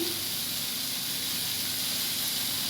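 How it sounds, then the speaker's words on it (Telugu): Tomatoes frying in a pan, a steady close sizzling hiss that holds evenly throughout without any breaks, moderately loud and heard alone with no talking. "ఈ టమాటాలు కొంచెం ఫ్రై కావాలి."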